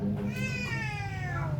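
A cat gives one drawn-out meow, close and clear, with a rising then falling pitch over a low background hum.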